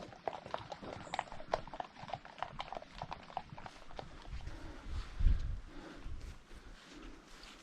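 Wild ponies move about on rough hillside ground near a tent, hooves clopping and thudding irregularly at close range with a heavier stamp midway, no voices.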